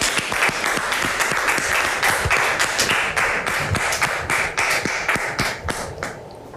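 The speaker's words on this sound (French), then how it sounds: "public, merci de recevoir Dame Bébo sous vos applaudissements" A studio audience at a French-language talk show applauds to welcome a guest, dense steady clapping with sharp individual claps that carries on for several seconds and only thins slightly at the end.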